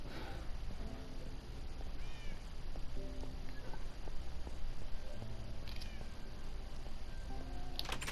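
Minecraft cats meow several times in a blocky game room, with short high mews over a steady background hum of game ambience.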